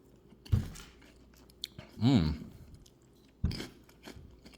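Crunchy Froot Loops cereal, the Canadian kind, is chewed close to the mic in three distinct crunching bursts separated by quiet pauses.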